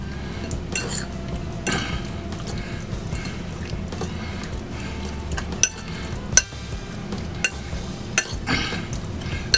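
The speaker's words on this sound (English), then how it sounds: "we're going to mix this up in here real good. Get the egg on every shrimp" Shrimp being mixed with egg in a bowl: steady wet stirring with light clinks of a utensil against the bowl, close up, and a few sharper taps near the end.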